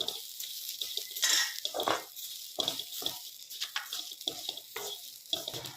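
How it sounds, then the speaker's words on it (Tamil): Coconut fries in a pan with green chillies and a piece of ginger, a steady crackling sizzle broken by stirring scrapes and rustles, close and continuous with no talk. "இது மாதிரி நல்லா தேங்காய் வறுத்து எடுத்து ஆற வச்சுக்கலாம்"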